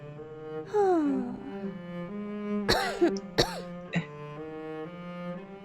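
A few short coughs and a throat-clearing sound from a game character, set over steady tonal background music.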